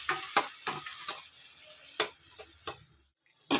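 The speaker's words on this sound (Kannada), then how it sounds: "ಟೊಮೆಟೊ ಹಾಕ್ಕೊಂಡು ಚೆನ್ನಾಗಿ ಸ್ವಲ್ಪ ಬೇಯಿಸ್ಕೊಬೇಕು." Tomatoes fry in a pan for tomato chitranna, giving a soft steady sizzle broken by repeated scraping, stirring strokes at a quick irregular pace, with no talking.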